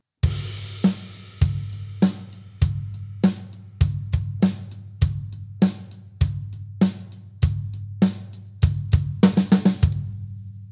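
A drum kit plays a steady groove of regular, punchy kick and snare hits over ringing cymbal wash, ending in a quick flurry of strikes; no voices.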